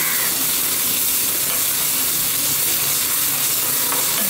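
Ground lotus seed paste sautés in a hot pan, giving a loud, steady sizzle and hiss that continues without a break, overlaid with faint stirring.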